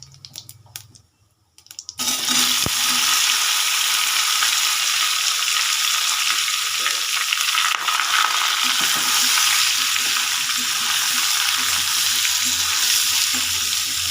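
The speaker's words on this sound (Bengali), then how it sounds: "জিরেটা ভাজা হয়ে গেছে, এর মধ্যে দিয়ে দেবো এবার সিদ্ধ করে রাখা আলুটা।" Boiled potatoes tumble into a pan of hot oil with fried whole cumin and are stirred, a loud steady sizzle and frying hiss running close and continuous after a brief quiet start, with occasional scraping clicks.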